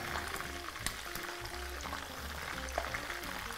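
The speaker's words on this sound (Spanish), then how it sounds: "Y cuando le da por saltar el aceite" Lamb frying in hot oil in a pan, a continuous dense sizzle with scattered crackles and spattering pops, close and steady with no talk.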